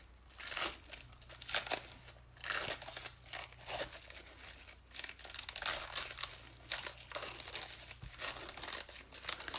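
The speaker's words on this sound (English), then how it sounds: "grab the corner and go ahead and peel" Adhesive backing peels away from a paper craft project in repeated crinkling, tearing bursts, close and fairly quiet, with short pauses between pulls.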